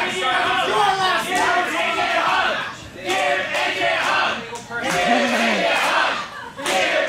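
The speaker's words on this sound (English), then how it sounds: "no question whose side the crowd is on, chanting, "Give AJ a hug."" A wrestling crowd in an arena chants in unison with a rhythmic, repeating cadence, loud and sustained, the many voices swelling and dipping together across the whole stretch.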